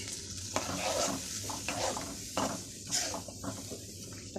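Onions, ginger, garlic, turmeric and spices frying in a pan for begun bhaji, a steady sizzle broken by repeated scraping stirs of a spoon against the pan, close and alone.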